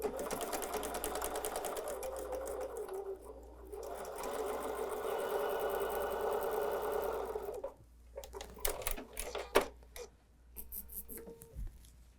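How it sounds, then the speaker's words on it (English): A sewing machine stitches a quilt block, running in a steady fast whir for several seconds, then stopping, followed by a few short bursts and clicks close by. "And let's go sew that together."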